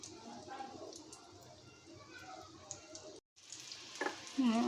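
Chicken tikka pieces fry in a small amount of oil in a pan, giving a soft continuous sizzle and crackle with stirring clatter, fairly quiet and close, briefly cut out before resuming with a few sharper pops.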